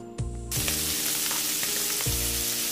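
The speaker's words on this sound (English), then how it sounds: "spread your cut up links in a pan just big enough to kind of cover the bottom, and fry them a little bit" Cut-up sausage links frying in a pan, a loud close sizzle that flares up as they hit the hot pan and keeps crackling steadily, with a brief clink of a utensil.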